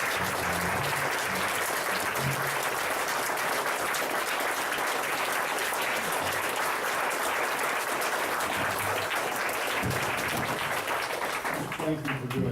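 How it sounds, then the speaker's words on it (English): A conference audience gives a long round of applause: thick, even clapping from a large crowd that continues at a steady level for about twelve seconds and thins out only at the very end. "could I ask for one more round of applause"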